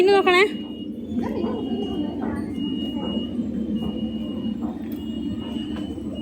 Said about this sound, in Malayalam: central railway station